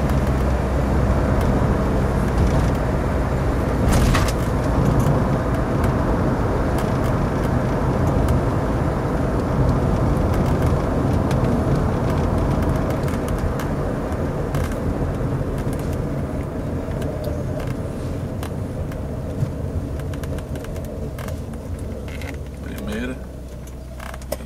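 Car with a Volkswagen EA827 (AP) engine pulling through second, third and fourth gears, a steady, loud engine drone with rising revs, heard from inside the cabin while someone talks over it.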